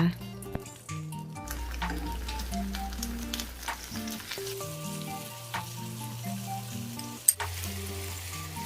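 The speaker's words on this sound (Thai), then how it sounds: "นำกระทะตั้งไฟ นำเนื้อปลาแซลมอนลงไปลวนให้สุกพอดีนะคะ" Salmon sizzles and crackles steadily as it is stir-fried in a hot pan with occasional scraping stirs, while a calm music bed plays underneath.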